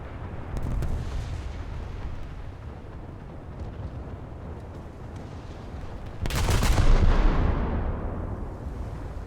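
Secondary guns of the French light cruiser Duguay-Trouin firing in a naval battle game, a deep booming volley over a low rumbling background, with a louder burst of blasts near the end.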